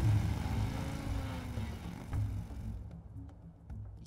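A motorcycle engine in the video game Beyond Two Souls, a low rumbling drone that rises slightly then fades away, moderately loud at first and quieter toward the end.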